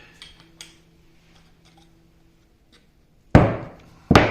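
Two sharp impacts, near and fairly loud, from bushings being fitted into place on a machined weapon bar, coming after a quiet stretch with a faint low hum and a few light taps.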